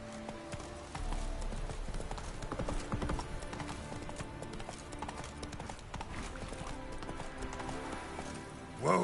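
Rhythmic hoofbeats of the horse Roach galloping in The Witcher 3, steady clip-clop over a game soundscape with music, ending in a brief whinny.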